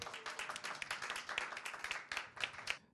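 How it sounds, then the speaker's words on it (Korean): Audience applause at a Korean political presentation show on women in politics, dense continuous clapping from many hands with sharper individual claps standing out, filling the whole stretch. "박수 한번 쳐주시죠"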